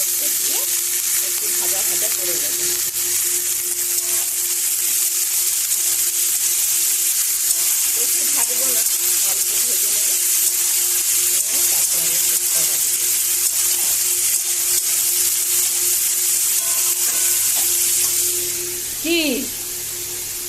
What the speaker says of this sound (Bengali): এখানে সাদা তেল দিয়ে রসুন আর পেঁয়াজটা আমি একটু ভাজা ভাজা করে নিয়েছি